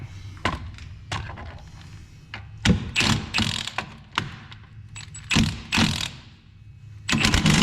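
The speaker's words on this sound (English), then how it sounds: "remove the front nut with a 15mm socket" Repeated ratcheting clicks from a 15mm socket wrench removing a front nut on a 2009 Chevy Impala rear strut come in short bursts, close up and loud, with metallic clunks between them and no voices.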